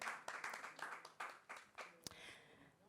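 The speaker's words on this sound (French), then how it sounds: "des applaudissements pour ce monsieur qui nous rejoint à l'instant" Scattered applause from a small audience welcoming a guest who has just joined, a short burst of clapping that thins out within a few seconds, heard at moderate distance and fairly faint.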